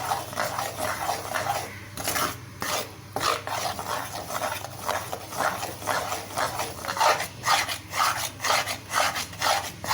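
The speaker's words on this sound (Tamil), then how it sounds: "கைவிடாமல் கலந்து விட்டுட்டே இருக்கணும்" Thick Mysore pak mixture of gram flour, sugar syrup and ghee being stirred nonstop in a pan, giving a steady scraping rasp with repeated rhythmic strokes, close and fairly loud, with a brief spoken word.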